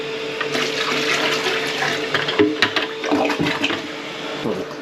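A slow toilet flush gurgles and rushes with water draining and swirling in the bowl, close and moderately loud, with irregular sloshing bursts and no speech.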